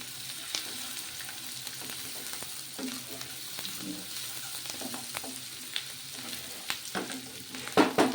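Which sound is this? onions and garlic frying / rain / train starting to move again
onions and garlic frying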